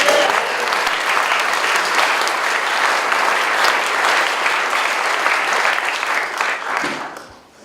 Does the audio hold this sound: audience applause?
yes